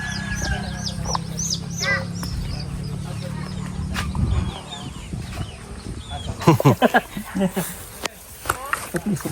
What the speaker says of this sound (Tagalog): mga alaga pala ito ni Dali, mga babayan, mga manok na pang lechon.